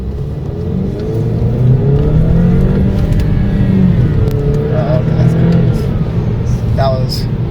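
A 2019 Alfa Romeo Giulia Q4 2.0L turbo revs up hard, pitch climbing then dropping at a bad gear change before climbing again, with a few clicks and knocks inside the cabin.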